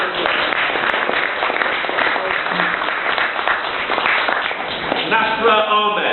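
Sustained applause fills an award ceremony at the Houses of Parliament for a student's top exam results, steady and dense throughout, with a voice starting up over the clapping near the end.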